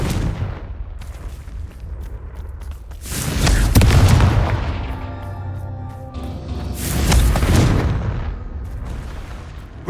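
Two heavy magical blasts from the Confringo fire spell in the video game Hogwarts Legacy, each a loud booming burst that swells and rumbles for a couple of seconds before fading, with no voices.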